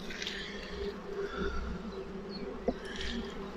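Honeybee drones buzzing around an open hive while a beekeeper works the brood box, a steady close insect hum with buzzing swelling and fading as bees fly past, alone without speech.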